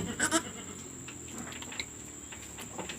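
A weak baby goat, drinking after a traditional remedy, gives a short pair of close, thin bleats at the start, followed by quieter ambience with faint insects in the background.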